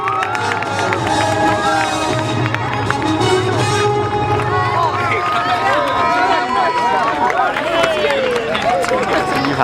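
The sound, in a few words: air show crowd applauding Army parachute team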